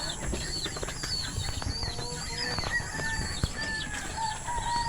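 Birds chirp and cluck in a busy coop with constant background hum; a rooster-like call rises among the chatter, fairly close.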